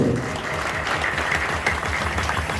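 Church congregation clapping during a worship testimony service, a continuous rhythmic burst of many hands beating in quick steady time, fairly loud and close, with a voice faintly audible over it.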